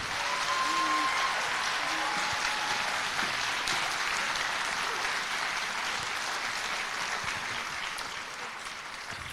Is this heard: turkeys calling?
no